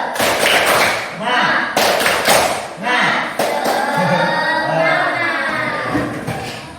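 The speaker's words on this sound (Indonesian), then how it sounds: "Oke, tepuk semangat." A class of students performs a rhythmic spirit clap, with sharp bursts of group clapping spaced in a steady pattern, mixed with chanting voices close by.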